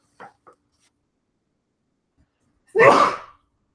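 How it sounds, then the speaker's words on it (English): A single sharp, close human sneeze bursts out after two faint clicks and a pause of near silence, then fades quickly. "Sorry, I had to sneeze."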